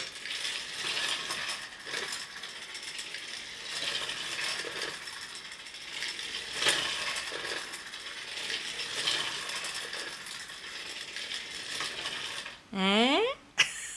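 A hand-cranked textile machine is turned steadily, giving a close, continuous ratcheting clatter of clicking gears for about twelve seconds, then stopping before a short vocal sound at the end.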